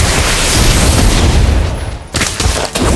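A Confringo blast spell in Harry Potter: Magic Awakened erupts as a loud, sustained booming roar, dense and continuous for about two seconds before cutting to a brief gap and a few rumbling follow-up bursts.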